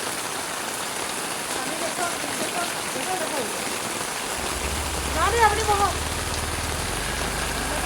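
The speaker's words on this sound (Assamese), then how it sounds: "আজি যি ধাৰাসাৰ বৰষুণ দিলে" Heavy monsoon-style downpour in the morning pours steadily onto surfaces nearby, a dense continuous hiss; a brief voice speaks partway through and a low hum joins later.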